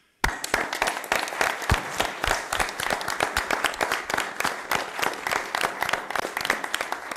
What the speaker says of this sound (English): you deserve a big round of applause too